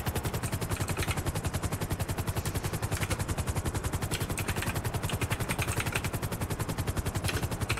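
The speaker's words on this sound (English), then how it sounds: "Yeah, I'm in the helicopter." A helicopter flies in a video game, its rotor giving a loud, steady, fast thumping chop that runs unbroken throughout, close and constant with no talk over it.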